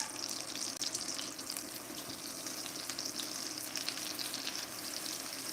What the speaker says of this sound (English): Should sizzle up right away